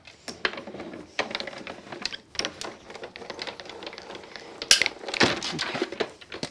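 A die-cutting machine presses two card pieces together, giving a close mechanical clatter of rolling and crunching with a sharper crunch near the end.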